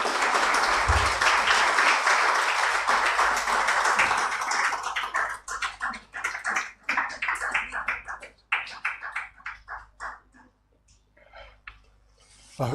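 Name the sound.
audience applause welcoming a speaker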